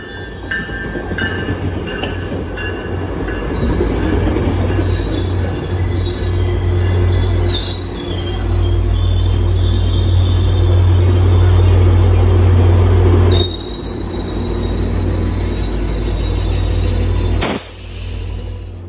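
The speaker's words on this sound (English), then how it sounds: "And here comes our train now." A Tri-Rail commuter train in Miami rumbles in close and loud, wheels squealing in high whines over a deep steady roar as it slows into the station.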